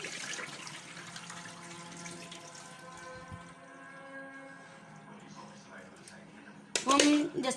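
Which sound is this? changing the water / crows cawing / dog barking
changing the water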